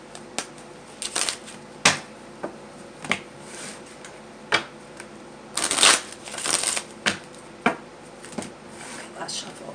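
Tarot cards being shuffled by hand in bursts of crisp riffling and slapping, with sharp taps between them, close and fairly quiet, no talking.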